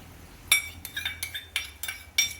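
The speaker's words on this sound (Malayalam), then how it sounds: "എന്നിട്ട് നന്നായിട്ട് ഇങ്ങനെ ഇളക്കി കൊടുക്കണേ" A spoon stirs cornflour mixture into boiling milk in a pan, making about seven sharp metallic clinks and scrapes against the pan at irregular intervals, close by with no talking.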